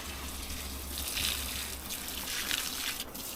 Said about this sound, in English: Water the pumpkin here.